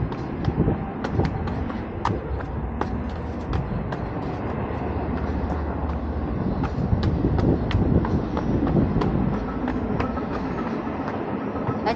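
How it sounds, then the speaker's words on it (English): Near Beacon Rock, a passing train gives a long, continuous rumble with repeated rhythmic clicks of wheels over rail joints, fairly loud and steady throughout. "A train! That's cool. Look at that, you can see the train."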